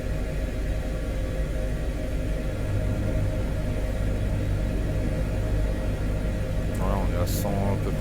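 A helicopter engine in Microsoft Flight Simulator 2020 gives a steady, loud, broadband rumble and whine that fills the whole stretch without a break, with brief faint speech near the end.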